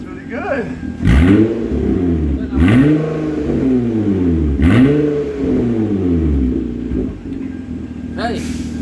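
A daily-driven car with a deleted catalytic converter and straight-pipe exhaust revs repeatedly, each loud, raspy rise in engine pitch falling back between blips, close up and alone.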